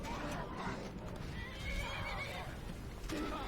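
A horse in the video game Skyrim whinnies repeatedly at moderate loudness, with clip-clop hoofbeats mixed into a busy game soundscape.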